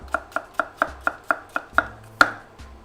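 Knife slicing a yellow onion thin on a cutting board, nine crisp, evenly spaced chops close up, the last one loudest, with no voices.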